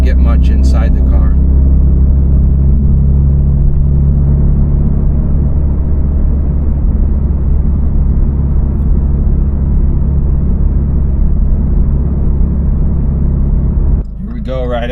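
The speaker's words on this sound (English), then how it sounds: "give it the beans for you, so you can hear what it sounds like with the window down" A Toyota GR86 or Subaru BRZ fitted with an AWE Touring exhaust accelerates hard, heard from inside with the window down as a loud, deep, sustained rumbling drone that cuts off abruptly near the end; a voice briefly speaks at the start.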